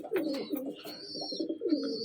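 Soft, throaty cooing from pigeons kept in a coop box nearby, a few rolling coos in quick succession with a faint higher chirp above them.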